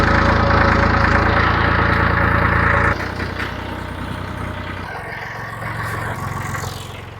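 A garden tiller's small engine running at a steady loud drone, dropping to a lower, rougher idle partway through, no voices.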